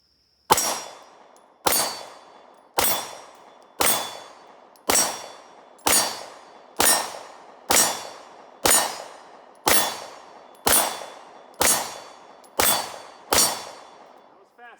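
CZ P10C pistol firing fifteen evenly spaced rounds at steel targets, each sharp loud crack followed by a ringing metallic clang, steady rhythm about one shot per second, close and clear with no talk.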